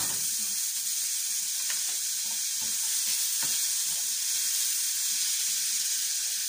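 Garlic and butter sizzle loudly and continuously in a pan for a sea bass and mushroom sauce, a dense hissing frying sound with faint stirring taps underneath.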